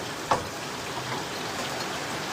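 Heavy rain pours down outside while someone cooks indoors, a steady, dense hiss with one brief louder tap near the start.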